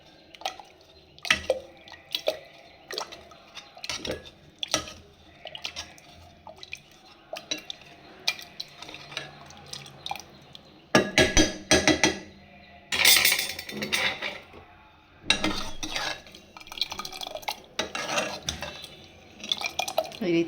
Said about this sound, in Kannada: ಈಗ ಬೇಳೆ, ಟೊಮ್ಯಾಟೊ, ಈರುಳ್ಳಿ, ಮೆಣಸಿನ್ಕಾಯಿ ಮತ್ತು ಅದನ್ನೆಲ್ಲ ಚೆನ್ನಾಗಿ ಮಸ್ಕೊತಾ ಇದ್ದೀನಿ ಈ ಥರ